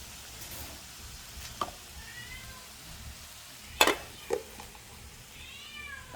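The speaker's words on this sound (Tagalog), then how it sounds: "May napulot kaming pusa. Ay, wild cat siya." A stray cat the speakers found gives a few faint meows, with a sharper louder cry near the middle, over a steady background sizzle of food frying in a pan.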